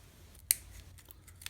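Scissors trim carbon fibre sheet around a pen tube, one sharp crisp snip standing out followed by a few quieter cuts nearby in an otherwise quiet room.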